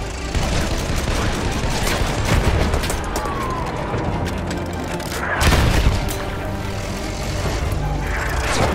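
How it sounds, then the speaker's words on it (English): Machine-gun fire in a Battlefield 1 multiplayer battle: dense, continuous bursts and booming blasts roll on throughout, loud and close, with distant explosions layered behind. "Enemy machine gun over there."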